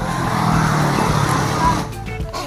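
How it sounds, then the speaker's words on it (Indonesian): A motorbike and car pass along a road in a Sundanese village, a loud, close engine roar that swells and then fades away, with rumbling road noise throughout. "ada motor, mobil"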